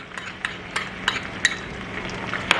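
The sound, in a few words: ginger garlic paste frying with onion on low heat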